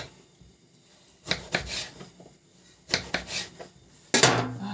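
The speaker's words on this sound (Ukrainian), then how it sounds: "Люблю оце різати все великим ножем." Large knife cutting eggplant into pieces on a board, a few separate sharp chops and scrapes, close and clear, spaced apart with quiet gaps between.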